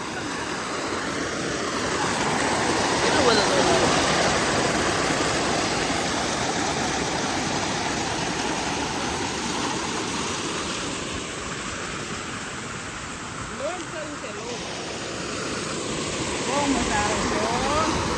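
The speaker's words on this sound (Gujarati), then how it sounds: "કેટલું બધું પાણી જાય છે" A large volume of water gushes out in a village setting, making a steady, loud rushing roar close by that swells and eases slightly over time.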